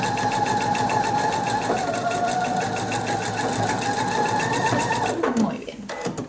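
Sewing machine stitching a quilt of squares, running steadily with a fast even whirring chatter close by for several seconds, then slowing and stopping near the end.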